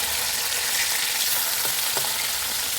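Whole spices frying in hot oil in a wok while being turned, a loud, dense, continuous sizzle close up with a few faint scrapes, and no voices.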